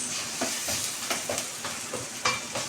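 Garlic sautéing in a pan for Bikol Express, a steady sizzle broken by repeated stirring scrapes at a slow, uneven rhythm, close and moderately quiet with no voices.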